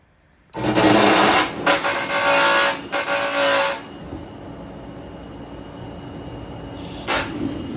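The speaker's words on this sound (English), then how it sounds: "That's why you heard all that noise. You know, it's a fan hitting the casing." A smoker's fan strikes its casing, making a loud, rapid mechanical rattle for about three seconds, then settling to a quieter steady whir with one short flare near the end.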